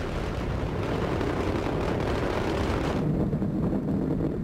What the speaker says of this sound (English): Standing by now for burnout and jettison of the twin solid rockets.